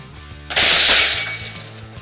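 A homemade coil gun fires a nail into a Nutella glass jar, producing one loud, sharp crack with a burst of shattering glass that rings out and fades over about a second.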